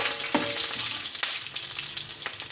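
Green chillies and dried red chillies sputter in hot oil, a moderate close sizzle with a few sharp pops and crackles scattered through it.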